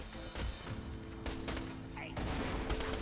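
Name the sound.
gunfire in a video game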